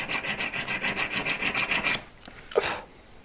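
A metal file rasping against a jewellery V claw in steady back-and-forth strokes, about a dozen even rhythmic scrapes close by, then a short pause with a faint clink and one last scrape.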